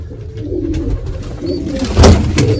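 Pigeon chicks, a crested pair with red markings, coo softly and repeatedly at close range, with a louder burst of cooing near the end.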